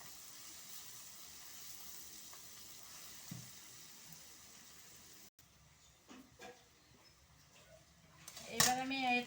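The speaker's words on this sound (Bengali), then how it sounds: "এবার এটাকে সুন্দর করে নেড়ে চেড়ে বাদামি কালার আনতে হবে।" Food frying and being stirred in a pan on a gas stove, a soft steady sizzle with occasional scrapes, fading briefly before louder clatter near the end, while someone talks over it.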